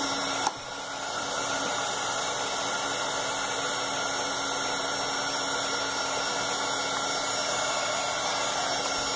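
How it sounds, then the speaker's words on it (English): A heat gun blows hot air in a steady, even roar that continues unbroken after a brief click at switch-on, with no talking over it. "I'm going to put on my heat gun"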